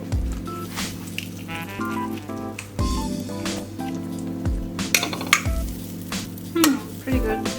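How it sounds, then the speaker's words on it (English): Two tablespoons of butter melt in a preheated pan for a white sauce, with a soft sizzle and light stirring scrapes under steady background music. "So here's our preheated utensil, and to that we're adding 2 tablespoons of butter."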